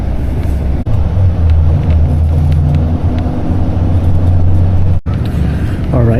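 A VIP coach in Peru pulling away, its engine a loud low drone that holds steady inside the cabin, with a couple of brief clunks.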